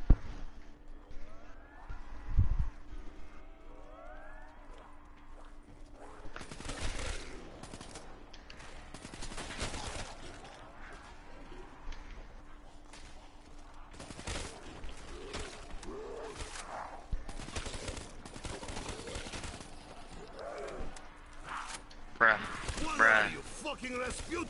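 Video game gunfire: bursts of rapid automatic shots and scattered single reports spread throughout, mixed with game effects and a person talking over it.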